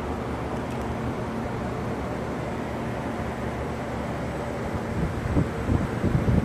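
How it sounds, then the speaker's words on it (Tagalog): Two electric motors driven by Delta VFDs (an MS 300 and a VFD-B) run together, giving a steady broadband hum with faint tonal whine, growing slightly louder and rougher toward the end. "Nabuhay yung dalawang motor."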